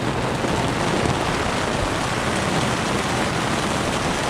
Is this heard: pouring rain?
yes